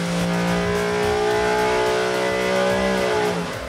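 A race engine revs hard on a dyno, a loud sustained wail with strong tonal harmonics that hold steady, then tapers off near the end.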